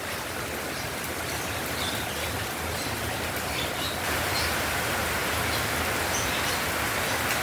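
Rain from tropical storm Carina in Batangas City falls steadily as a dense, even wash of hiss, with no talk.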